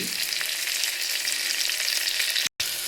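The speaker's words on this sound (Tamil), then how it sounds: "இங்கிட்ட பல்லாரி வெந்துக்கிட்டு இருக்கப்பே" Onions sauté in a pan with a constant, close, loud sizzle and faint stirring, with no voices.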